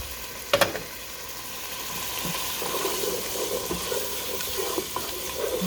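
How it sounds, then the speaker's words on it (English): Tomato sauce poured into rice and beans frying in a pan gives a soft, steady sizzle, with a brief clatter near the start and some light bubbling as it cooks. "now I'm going to go ahead and add some of this tomato sauce"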